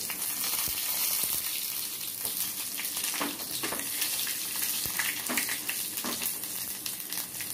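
Curry leaves, dried red chillies, a small piece of ginger, cumin and crushed garlic sizzle in hot oil for a urad dal chutney, a continuous close frying hiss dotted with sharp crackles and pops, with no talk.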